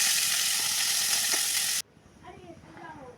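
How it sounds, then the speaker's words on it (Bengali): Small pieces of egg and prawn sizzle loudly in hot oil in a pan, a bright continuous hiss that cuts off abruptly partway through, leaving quiet clinks and faint speech. "সেটা ভেজে নিচ্ছি।"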